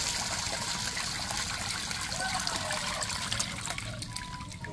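Water trickling steadily as grated coconut is strained into coconut milk, a continuous close splashing dribble with no talking.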